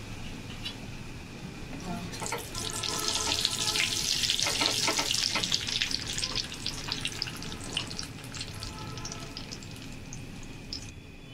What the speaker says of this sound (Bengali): এবার একে একে বাকিগুলো সব ভেজে নেব